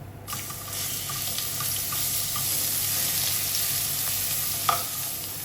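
Ginger and green chili paste sautés in a pan for Kerala-style pork vindaloo, giving a steady close sizzle with faint scraping of the spoon and a brief clink near the end, with no voices.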